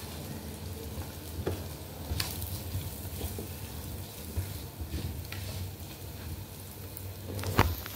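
Food frying and being stirred in a pan on a low-budget cook, a continuous sizzle with scattered clinks and utensil scrapes, one louder knock near the end, no talking.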